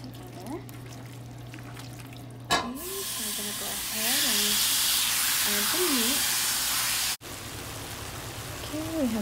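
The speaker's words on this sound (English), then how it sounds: "We have the chicken frying" Sliced, seasoned chicken frying in a pan in a home kitchen, a broad steady sizzle that starts abruptly and runs loud, with whistling tones and a brief cut before it continues.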